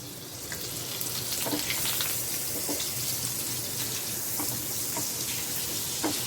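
Bay leaves frying in melted butter over a low flame, a steady close sizzle with scattered soft pops and crackles running evenly throughout, no voices.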